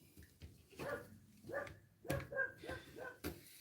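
Several small dogs barking, a series of sharp yips and barks at moderate distance, with some whimpering mixed in.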